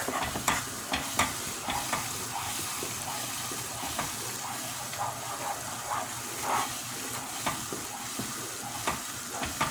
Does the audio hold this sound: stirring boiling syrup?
yes